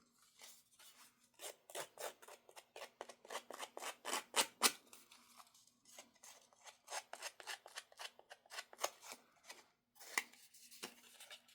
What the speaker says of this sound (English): You could use your scissors to do that too.